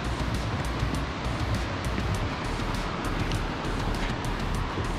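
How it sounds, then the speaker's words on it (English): A waterfall rushes in a continuous, dense roar of falling water, steady and fairly loud with no voices over it. "I will say there is something to be said about the sound of waterfalls."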